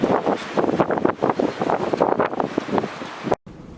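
Strong, gusty wind of an April blizzard roars and buffets the microphone in uneven rushes, loud and close throughout, then cuts off abruptly near the end.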